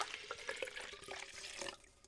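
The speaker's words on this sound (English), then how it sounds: "Grab the water and pour it into the stock pot." A gallon of water is poured into a stock pot, giving a faint, steady splash and trickle of liquid for about two seconds with no talking.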